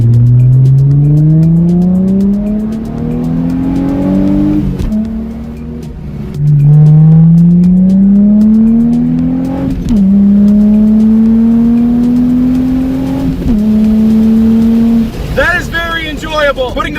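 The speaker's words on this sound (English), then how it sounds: "I'll answer that for you by going for a quick drive in the 350Z." Inside a Nissan 350Z on a drive, the engine pulls loudly through several gears, each pitch climbing steadily before dropping at a shift, followed by a burst of revving at the end.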